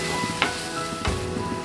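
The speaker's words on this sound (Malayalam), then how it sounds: "എന്നിട്ട് നന്നായിട്ടൊന്ന് മിക്സ് ചെയ്യാം." Chopped onion with salt sizzling in a pan for samosa filling while it is stirred, a continuous close frying hiss broken by a few sharper scrapes of the spoon.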